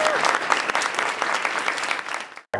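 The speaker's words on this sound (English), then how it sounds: "Let's please give them a round of applause." Audience at a book festival breaking into applause after speakers are introduced, a dense burst of clapping with faint voices mixed in that fades out and cuts off near the end.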